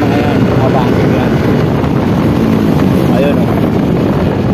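Many motorcycles ride along the Marilaque mountain road, their engines a loud continuous roar mixed with heavy wind buffeting on the microphone throughout.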